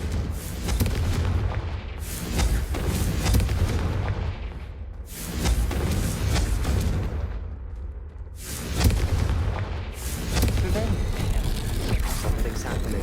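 Confringo blasting spells fired in Hogwarts Legacy, a series of heavy booming explosions that rumble and roll in waves, each burst followed by a fading tail, with a voice talking over parts of it.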